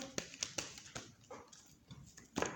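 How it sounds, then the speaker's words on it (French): A dog barks a handful of short, sharp times in an indoor room, the barks spaced irregularly and moderately loud against a quiet background with no speech. "désolée pour le chien qui a aboyé"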